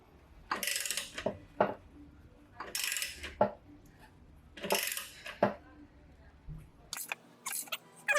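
A Schley trailing arm bushing extractor is cranked by hand, giving repeated bursts of metallic ratcheting and creaking in slow rhythmic strokes, close by, with light breathing or murmurs between.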